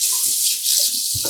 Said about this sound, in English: cold water to my rinsing bowl.